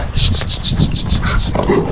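Two dogs bark in quick, rhythmic bursts close by, about nine sharp yaps in a row, while people talk over them.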